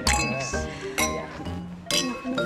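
Drinking glasses clink together in a toast, several bright ringing taps spread over a couple of seconds amid background chatter and music.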